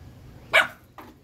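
A dog gives two short barks at close range, the first louder and sharper, the second softer and quicker, against a quiet background.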